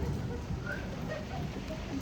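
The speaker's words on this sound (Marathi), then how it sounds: "असला पाऊस आहे, असला पाऊस आहे." Heavy monsoon rain falling outside, a dense, low, steady wash of noise heard at a distance without break.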